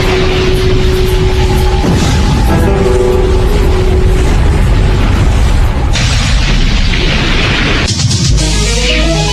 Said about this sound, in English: A series of massive explosions devastates the Mexican city of Guadalajara.